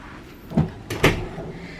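Drawer in a spa balcony cabin aboard the cruise ship NCL Prima sliding open, two short knocks and a scrape, close and moderately loud with no talk.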